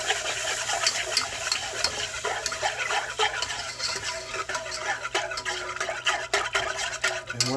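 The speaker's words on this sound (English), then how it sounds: "whisk her up" Mac and cheese mixture whisked in a pot on the stove, a steady, busy stir with light clinks of the whisk against the metal running continuously up close.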